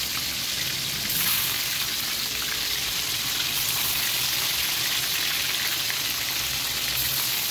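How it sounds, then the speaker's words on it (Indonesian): Tempeh sizzling steadily in hot oil in a pan, a continuous dense crackle and hiss at close range with no voices. "Tempenya sakum ya, ini tempe. Lalu ngambil kita goreng"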